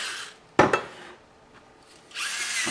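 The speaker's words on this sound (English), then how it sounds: "I'm so lazy I can't even grind my own pepper" An automatic electric pepper grinder grinds with a short whirring burst, then a quieter stretch, then a longer steady buzz that runs to the end. It sounds close and no one speaks.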